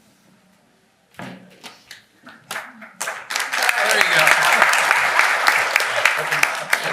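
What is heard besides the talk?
audience applause at a meeting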